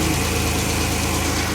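A car engine idles steadily and loudly up close with an even low rhythmic pulse and no talk.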